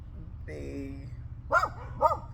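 A dog barks close by twice in quick succession, loud sharp barks after a brief whine-like call, over a steady low background hum.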